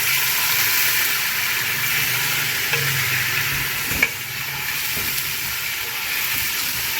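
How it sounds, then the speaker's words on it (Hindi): Beef pieces for nihari frying in hot oil give a steady, close sizzle with broad hissing that runs the whole time, broken by one brief knock near the middle. "ये जो निहारी का गोश्त है उसको मैं हल्का सा तेल में फ्राई कर रही हूँ"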